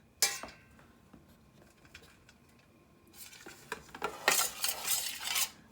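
Hard-boiled eggs stirred with turmeric in a metal bowl or pan, an opening clink, then light scattered taps before a busy run of scraping, clattering utensil strokes toward the end.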